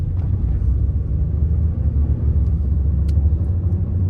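A Ram pickup truck's engine accelerating under a normal press of a Bluetooth throttle pedal, a loud, steady low rumble heard from inside the cab with no talking.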